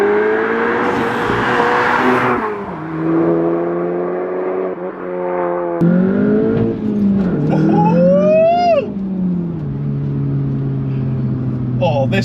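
A modified Audi S1 is driven hard, its engine revving up and down through the gears with rising whines and throaty pulls, loud and close, interrupted by a short gap in the middle.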